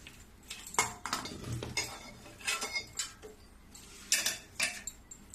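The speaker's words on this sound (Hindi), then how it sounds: "तो मैं एक कुकर ली हूँ, एक कुकर में आम डाल दूंगी।" Mangoes go into a pressure cooker with a series of clinks, knocks and metallic taps of a pot and utensils, irregular and close, without talk.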